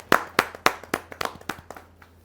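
Scattered clapping from a small audience welcoming a speaker at a Hindi poetry gathering (kavi sammelan), a handful of loud, close hand claps in an uneven rhythm that quickly thin out and fade.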